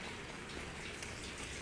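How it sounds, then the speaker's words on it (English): Steady rain falling outdoors in a hometown, a soft, even hiss of drops with no break, faint and distant, with no voices. "it's actually raining here"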